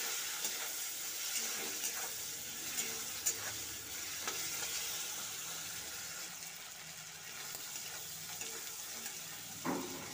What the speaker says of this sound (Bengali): কাঁকড়াগুলো ভালো করে ভেজে নিয়েছি